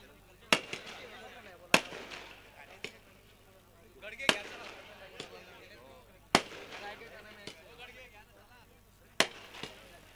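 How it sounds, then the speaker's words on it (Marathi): Firecrackers and fireworks go off at a village cricket tournament event in Ghotgaon, with sharp pops and cracks bursting at irregular intervals over a background of people talking and a crowd murmuring. "फटाक्याची आतिषबाजी बघू शकाल आपण."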